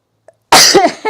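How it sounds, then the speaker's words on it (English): A single short sneeze from an adult in a quiet sewing room, loud and close, with a small sharp burst trailing off into a breathy release. "I'm going to sneeze."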